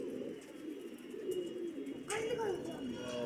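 Pigeons kept at a loft coo in low, wavering phrases, a few calls in a row close by, with a faint voice and a sudden rustle partway through.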